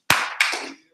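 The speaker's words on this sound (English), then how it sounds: "Clap your hands once." A group claps hands once in a loud, close burst that rings briefly and fades within a second.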